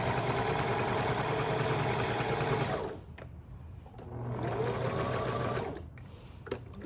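A sewing machine stitches along the bottom seam of a fabric tote bag, running in a steady, loud mechanical whir, pausing briefly, then running again before a second short stop.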